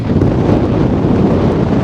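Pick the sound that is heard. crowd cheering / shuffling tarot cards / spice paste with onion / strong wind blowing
strong wind blowing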